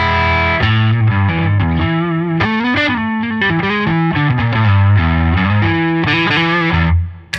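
A PRS S2 McCarty 594 Singlecut electric guitar on its split neck pickup, played through heavy gain and distortion, rings out loud, sustained chords and riffs that fill the clip, with no voices.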